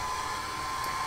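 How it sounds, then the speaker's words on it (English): A hair dryer running indoors during a miniature painting session, a steady loud whirring hum with a sustained whine, constant and unbroken, with no voices. "I apologize for the hairdryer here."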